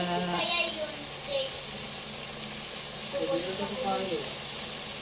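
Tilapia sizzles and crackles steadily in a hot pan, a constant frying hiss with a person talking over it.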